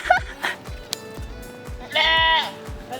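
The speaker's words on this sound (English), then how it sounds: "That's probably the funniest goat I've ever heard." A goat near a waterfall trail in the Philippines lets out a loud, wavering bleat lasting about half a second, following several shorter calls and soft footsteps or knocks nearby.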